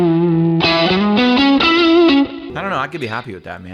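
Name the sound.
electric guitar through OCD overdrive pedal from Kemper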